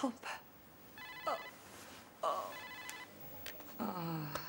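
A mobile phone rings unanswered in two short, bright repeating bursts, moderately close, with brief voices and small movements in between.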